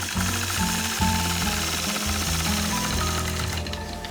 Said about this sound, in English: I'll stitch right down to the opposite side of the block